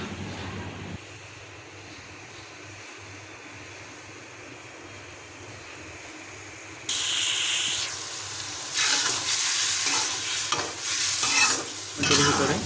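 Tomatoes are added to a pan with shrimp, then fry and are stirred, so a quiet hiss swells into a loud, steady sizzle with bursts of spattering, close and without talk.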